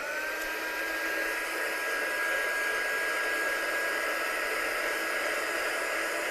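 A hair dryer blows continuously and close over a wet craft piece in a studio, a steady even whoosh with a faint whine, loud and unbroken, with no talking.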